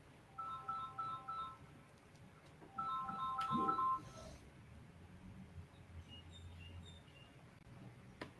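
Two short bursts of a chirpy electronic phone ringtone, each a rapid repeating trill, sound in a quiet room, with fainter tones trailing afterward.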